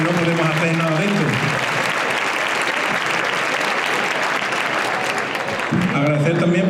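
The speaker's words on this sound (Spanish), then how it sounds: "Un aplauso para ellos, muy fuerte" Loud sustained applause from a crowd honouring volunteer parents and civil protection workers at a local event, dense steady clapping for several seconds with a spoken voice briefly at the start and end.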